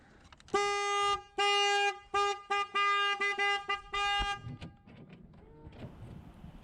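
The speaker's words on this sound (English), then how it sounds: "hopefully I can just work on this thing peacefully and the horn won't keep honking at me" A truck's anti-theft alarm sounds its horn in a string of loud, steady honks, some long and some short in quick succession, before it stops and leaves low background rumble and noise.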